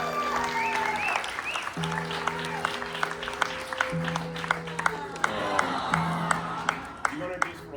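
A concert crowd at the Troubadour in Los Angeles applauds and cheers, sharp individual claps and whoops ringing out while voices and sustained tones carry over the top.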